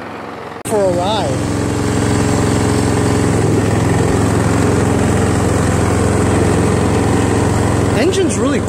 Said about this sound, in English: Engine's really quiet, you know, for a flathead.